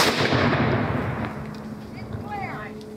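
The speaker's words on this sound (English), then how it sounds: "Gun number 4. On my command, fire." Cannon fire at a Civil War battle reenactment marking the 150th anniversary of the Battle of Johnsonville in Tennessee: a loud boom at the start rolls out into a long fading echo, with faint voices and whistling afterward.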